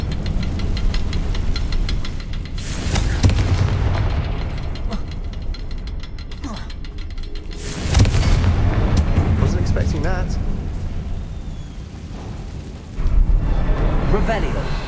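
Confringo fire spell explosions in the Hogwarts Legacy video game: three loud, booming blasts with rumbling tails, spaced several seconds apart, over steady game ambience.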